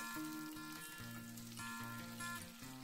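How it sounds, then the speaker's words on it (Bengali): Chopped onions fry in ghee and oil for a Dhaka-style vegetable pulao, a soft, steady sizzle that sits quietly beneath background music. "ওই তেলের মধ্যে প্রথমে ভেজে নেব পেঁয়াজ কুচি"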